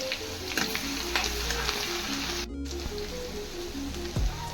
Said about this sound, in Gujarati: હવે આને હું હલાવી લઈશ.